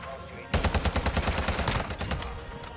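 Rapid automatic fire from a TAQ-V rifle in Modern Warfare 2, a loud burst of about a dozen evenly spaced, booming shots followed by a fading tail and a single later report.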